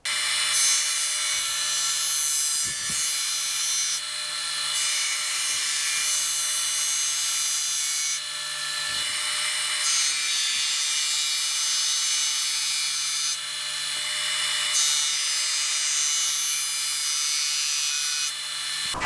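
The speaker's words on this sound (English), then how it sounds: "we're going to run these through the sander, the belt sander, get a final pass on the belt sander just to smooth up the edges" A belt sander runs steadily, smoothing the edges of quarter-inch-thick guitar neck and body wood pieces, with its continuous whine broken by several brief knocks and shifts as the pieces are worked.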